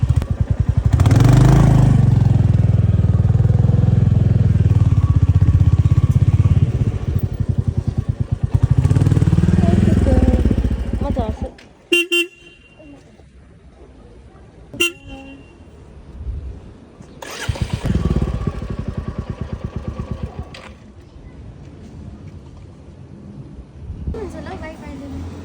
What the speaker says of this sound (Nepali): अरूहरू नै आइरहेको रहेछ बाइक